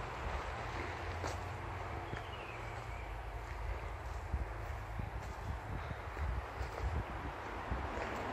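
Wind blows steadily around Keston Ponds outdoors, a constant broad rush with buffeting against the microphone and faint scattered background sounds.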